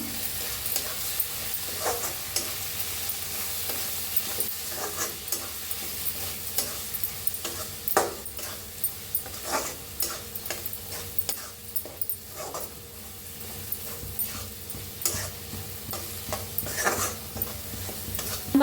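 A spoon stirs vegetable curry with garam masala and coriander powder in a pan, giving steady scraping and clinking strokes over a continuous sizzle, fairly close and with no talking.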